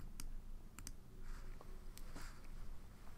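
Computer mouse clicks during a software tutorial, a handful of sharp, isolated clicks spaced irregularly over a quiet background, close and crisp.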